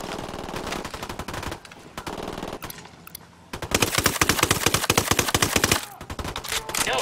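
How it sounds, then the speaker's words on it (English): Automatic gunfire in Ghost Recon Wildlands, loud rapid rattling bursts that pause, come back sparser, then surge into a long sustained volley with a short gap near the end. "Opening fire on these fuckers."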